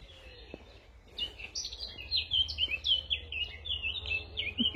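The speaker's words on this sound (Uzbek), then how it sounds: "Chiroyli sayrab ketgan qushlar." Birds sing outdoors in a lively chorus of bright, high chirps and warbling phrases, growing busier after the first second and continuing over a low background rumble.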